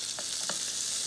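Pancetta sizzling in a hot pan, a brief, steady hiss of frying fat with a couple of faint pops, close and without speech.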